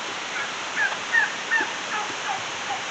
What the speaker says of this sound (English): Turkeys over there making a little bit of noise.